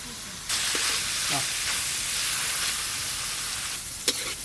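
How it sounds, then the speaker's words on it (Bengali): Mixed vegetables frying together in hot oil for fried rice give a steady bright sizzle throughout, with a few clinks of a spatula stirring and a brief louder scrape near the end. "তেল গরম হয়ে গেছে, সব সবজিগুলো একসঙ্গেই ভেজে নেব।"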